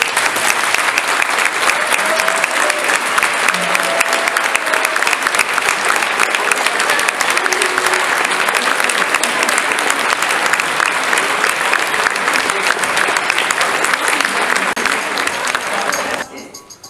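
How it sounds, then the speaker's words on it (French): Sustained, dense applause fills a hall at a college banquet as parents clap for their children, steady and loud for about sixteen seconds before cutting off abruptly. "de grâce, applaudissez vos enfants."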